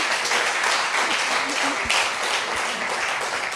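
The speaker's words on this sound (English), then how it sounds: "can we give him a big hand of applause?" Audience at a wine talk event applauding, a loud, dense and steady round of clapping from many people that runs throughout, with a few faint voices under it.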